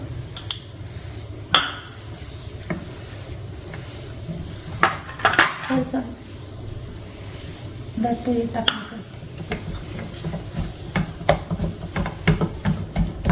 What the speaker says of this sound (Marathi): आता आपण त्यात थोडी वेलदोडे आणि जायफळची पूड टाकून मिक्स करून घेऊ